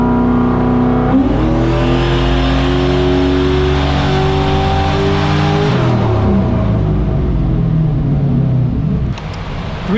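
Turbocharged small-block Buick engine, around 700 hp with Holley Sniper fuel injection, revs hard on a dyno, loud rising tone climbing steadily before the pitch drops sharply near six seconds, then settles toward a lower hum.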